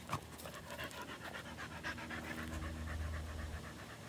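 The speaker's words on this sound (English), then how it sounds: "Sorry, you can hear us panting." A dog pants rapidly and steadily close by, a continuous rhythmic huffing with faint background sounds.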